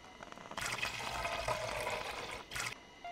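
Water runs and pours steadily in the VR game Job Simulator, a close, hissing splash lasting a couple of seconds, then a short second gush.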